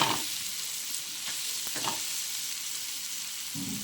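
Green chilies sizzling and frying in a pan with turmeric and salt, a steady soft crackle with a few stirring scrapes and no talking.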